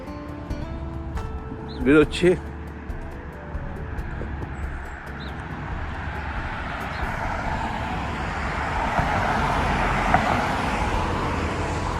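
Traffic rolls along Sunrise Highway in New York as a continuous road hum that swells gradually toward the end, with a couple of brief sharp noises near the start and a voice faintly present.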